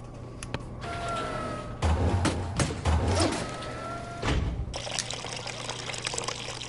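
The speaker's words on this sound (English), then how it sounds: "Now just pour that blended protein fluid onto the cube" Blended protein fluid poured onto a cube in Job Simulator, heard as several close, loud splashing pours separated by brief gaps.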